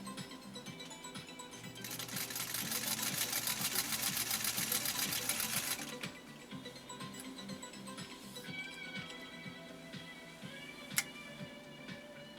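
A 1949 Singer 66-8 sewing machine stitching thin polyester ribbon, running in a fast steady mechanical whir for several seconds, then a slower rhythmic ticking of the needle, close by and with no talking.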